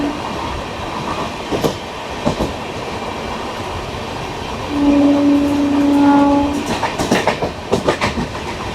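The Vivek Express from Kanyakumari to Dibrugarh running at speed and overtaking: rumbling wheels and clattering carriages heard from on board, a sustained horn blast midway, then rapid rhythmic clicks over the rail joints.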